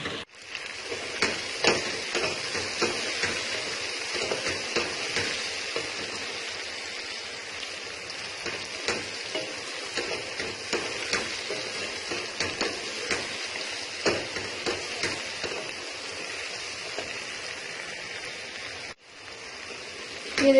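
Tomatoes and green chillies sautéing in a hot pan for restaurant-style achari bhindi, giving a steady, even sizzle with light crackles throughout, close and unbroken, with no talking.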